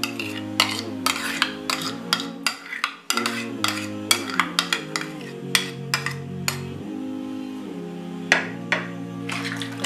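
Spoon clinking and scraping in a bowl while yogurt and spices are mixed for a chicken shawarma marinade, a fast irregular run of close, bright taps over a steady background hum, with no talking.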